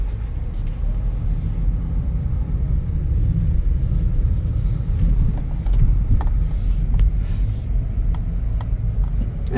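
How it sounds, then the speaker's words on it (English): A 2009 Chevy Equinox on the road, its steady low engine and road rumble droning without a break, with a faint whirring wheel-bearing hum riding under the drive noise and no voices. "I know the auction said wheel bearing noise."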